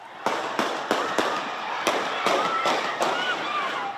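Sharp, loud bangs go off at irregular intervals, about ten in a row, echoing against a steady noisy background.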